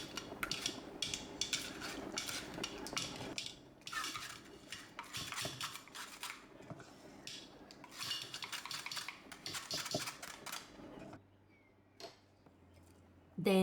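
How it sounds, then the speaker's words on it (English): Coconut rice pancake batter for Vietnamese banh xeo is pushed through a fine metal strainer, with repeated close clinks and scrapes of utensil on metal that break off into near quiet toward the end. "Just make sure to strain everything well through a fine strainer so there are no lumps"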